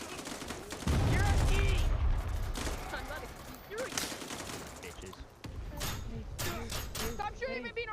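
Bursts of rapid gunfire in the shooter game Forefront ring out repeatedly, loud and close, while a player talks over the shots.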